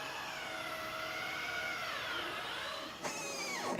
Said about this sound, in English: what you're hearing right now is the hydraulic pump